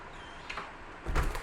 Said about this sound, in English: But if I use my fingerprint, that opens it.